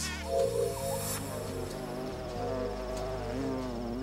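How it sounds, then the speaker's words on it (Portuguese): A bumblebee foraging on blue lobelia flowers in a garden gives off a steady, droning buzz that hovers and shifts slightly in pitch, layered over a sustained tonal background with no voices. "Quando o abelhão se adianta em direção à lobélia azul em busca de néctar"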